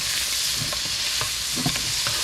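Garlic fried rice gets stirred in a hot pan with a steady sizzle, a few soft scraping strokes from the utensil sounding close over the constant frying hiss.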